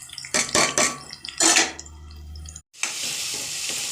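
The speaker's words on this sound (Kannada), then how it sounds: "ನೋಡಿ ಫ್ರೈ ಆಗ್ತಾಯಿದೆಯಲ್ವ, ಇದಕ್ಕೆ ಒಂದು ಸ್ವಲ್ಪ ಅರಿಶಿನ, ಇಂಗು, ಉಪ್ಪು ಎಲ್ಲ ರೆಡಿ ಮಾಡಿ ಇಟ್ಕೊಂಡಿದ್ದೀವಲ್ಲ ಅದನ್ನು ಹಾಕೋಣ." Turmeric, asafoetida and salt go into a pan of frying food, heard as close stirring and clattering pan scrapes in short bursts, then a brief silence before a steady sizzle.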